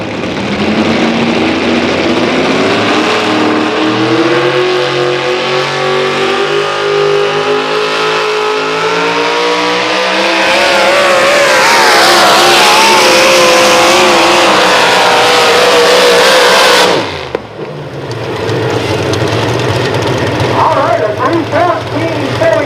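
The Tasmanian Terrier 2 pulling truck roars at full throttle down the track at a truck pull, a loud sustained engine climbing in pitch before abruptly cutting off, then rumbling at a lower idle, with an announcer's voice over it.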